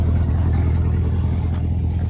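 A salvaged 6.0 LS engine runs steadily at idle in a scrapyard setting, a loud, continuous low rumble with light mechanical clatter and no talk.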